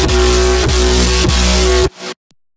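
A sustained reed-like synth sample plays with a strong steady tone and regular rhythmic pulses about every 0.6 seconds, then cuts off abruptly near the two-second mark, leaving a short faint tail.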